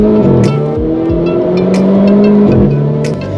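A Renault Clio 4 RS Cup engine pulls loudly and steadily up through the revs while the gearbox holds it in check, with a rising drone, brief tyre scrubs and short shift dips, close and continuous.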